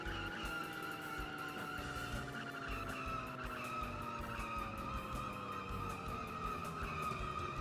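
Car tires skid and squeal through a sustained drift in the video game Gadget Racers, a steady loud tire screech with gliding engine tones over continuous engine roar, no talking.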